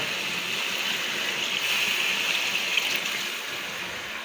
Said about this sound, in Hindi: इसमें मैं तकरीबन 4 गिलास पानी स्टेज में ऐड करूँगा